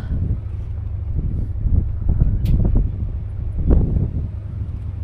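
Wind gusts across the upper deck of a ferry to Hiiumaa island, Estonia, a low rumbling buffet against the microphone with a steady engine drone beneath, no one speaking.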